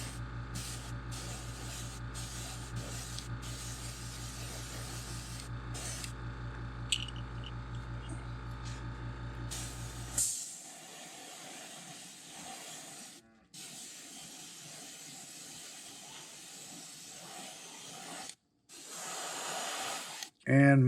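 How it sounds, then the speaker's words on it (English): An airbrush sprays a white base coat on a custom fishing lure with a steady hiss for about ten seconds, then drops to quieter broadband noise with a few brief bursts. "make sure you're spraying pretty much straight on."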